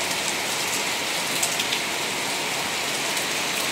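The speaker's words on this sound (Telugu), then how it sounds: "వాన పడుతుంది" Heavy rain pours outside a shop in a steady dense hiss of drops hitting surfaces, close and constant throughout, with no voices.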